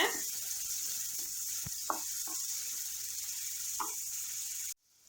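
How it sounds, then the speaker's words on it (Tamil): Chopped onions sauté in a pan for a Tamil-style drumstick stir-fry. A soft, steady sizzling hiss runs throughout with a few faint clinks, then cuts off abruptly near the end. "சேர்த்துட்டு வெங்காயத்தை நல்லா வதக்கி விடுங்க"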